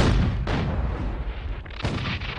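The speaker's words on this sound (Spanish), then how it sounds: "Los cañonazos se oían hasta Punta Isabel." Mexican artillery cannons at Matamoros fire continuously on Fort Texas, with heavy booming blasts and rumbling echoes rolling one into the next, loud and dense.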